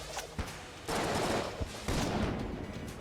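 A boss in Enter the Gungeon fires bursts of bullets, producing a few rapid volleys of gunfire that start and stop abruptly, fairly quiet and dense, with no talk over them.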